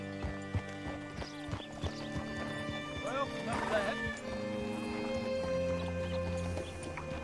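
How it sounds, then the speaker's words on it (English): A horse in the Red Dead Redemption 2 video game clops its hooves close by, then gives a clear whinny midway, with sustained tonal sounds under it and someone briefly speaking. "Hitch your horse up here."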